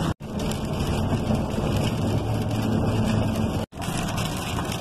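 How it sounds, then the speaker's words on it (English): Heavy rain pounding on a moving truck while driving across the Ohio River, a dense, steady hiss and roar of water and road noise, with two brief cuts to silence. "it's been raining its guts out since I left Columbus"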